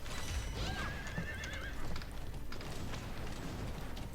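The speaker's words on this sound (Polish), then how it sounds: "Bardzo ładnego konia ma ten Subaru" A horse neighs in the video game Alicia Online, a loud whinny with a long wavering cry over steady game background noise, followed by hoof clip-clop.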